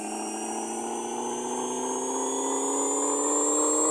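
A Honda Civic with a D16 engine running on a dyno in Pixel Car Racer, a video game, producing a steady, high-pitched engine whine that rises slowly in pitch as revs climb, loud and uninterrupted.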